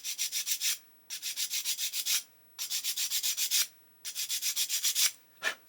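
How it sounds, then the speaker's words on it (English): A coarse sanding stick rubs across two small lugs on a 1/8-scale Porsche 917 model kit, four bursts of rapid rhythmic back-and-forth scratching strokes with short pauses between, close and alone. "take a coarse sanding stick, and I'm just going to sand across the top of these two lugs"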